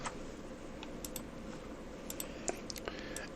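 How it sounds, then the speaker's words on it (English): Light typing on a computer keyboard, a scattering of soft key clicks over steady background hiss, close but fairly quiet. "we can click text and start typing something here"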